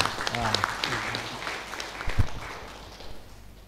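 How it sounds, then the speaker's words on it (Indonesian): Clapping from the audience at a cooperative movement event, mixed with speech and background voices, rising and then fading out toward the end. "Tepuk tangan untuk kooperasinya ini"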